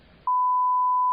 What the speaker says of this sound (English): We'll definitely put a beep there.